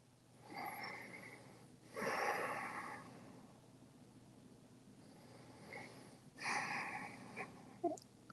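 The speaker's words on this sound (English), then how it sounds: "Breathe." Slow, deep yoga breaths, each long inhale and exhale a soft, airy rush, close to the microphone and quiet, with calm pauses between them.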